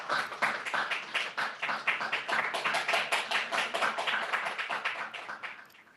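A lecture hall audience applauds after an inaugural lecture with close, steady rhythmic clapping that holds strong for several seconds and then fades away at the end.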